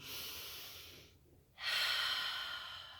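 A single deep breath taken during a guided anxiety-relief tapping exercise: a soft steady exhale, a brief pause, then a strong close inhale, heard alone without talk.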